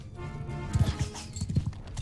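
Horse hooves clip-clop in a few quick bursts amid battle ambience in the Mount and Blade Bannerlord video game, with a faint whinny mixed in.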